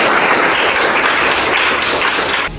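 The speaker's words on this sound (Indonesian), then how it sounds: "kita berikan aplaus untuk Mas Gareth" Audience applause at an Indonesian lecturer certification teaching presentation on hyperlipidemia: a dense, steady burst of clapping that stays loud for over two seconds, then drops off abruptly.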